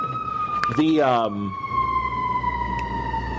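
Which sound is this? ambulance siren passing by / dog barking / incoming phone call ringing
ambulance siren passing by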